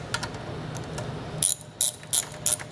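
A socket wrench ratchets while bolts come off the ignition coil of a small engine, first a soft steady clicking, then four sharp, close ratchet bursts spaced about a third of a second apart.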